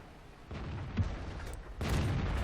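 A World of Tanks AMX M4-45 fires its cannon, giving a short booming report over engine rumble, followed by a louder low blast near the end, with no talk.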